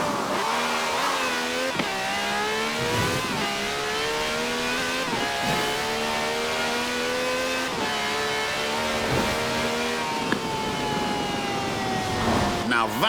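A V12 taxi with over 750 horsepower in the video game Forza Horizon 4 revs and accelerates through repeated gear changes, its engine note climbing and dropping in steady sweeps, loud and continuous.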